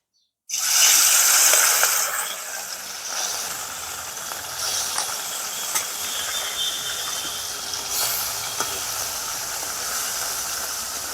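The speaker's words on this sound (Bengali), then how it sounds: "তেল গরম হয়ে গেছে এবার আমি মাছগুলো ভেজে নেবো" Katti fish frying in hot oil, starting with a sudden loud hissing burst as the pieces hit the pan, then settling into a softer steady sizzle with occasional crackles, close and without speech.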